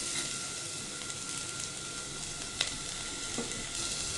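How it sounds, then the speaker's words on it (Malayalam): Prawns with tamarind and chili frying in a clay pot give a steady, close sizzle while a spoon stirs them, with a faint scrape or tap here and there and no voices. "ഇനി അറിഞ്ഞും പുറഞ്ഞും നല്ല രീതിയിൽ ആരോഗ്യത്തോടെ ഇളക്കിക്കോ"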